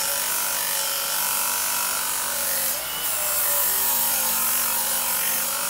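Work Sharp belt sharpener with a 220 grit belt grinding the edge of a lawn mower blade, a steady loud abrasive whir with a brief dip near the middle before resuming, no talking.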